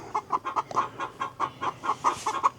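Chickens clucking close by on a rural property during land clearing, a steady series of short rhythmic clucks repeating every fraction of a second, quiet and with no talk over them.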